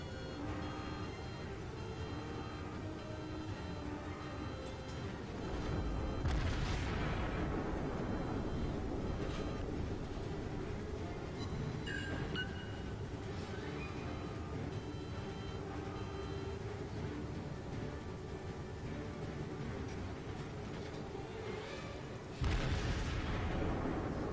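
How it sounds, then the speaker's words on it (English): Explosions rip through an enemy battleship as it is destroyed in World of Warships, a burning ship sinking amid dull booms and bursts. A sharp blast comes mid-way and another near the end over a steady low rumble of battle. "We destroyed an enemy battleship."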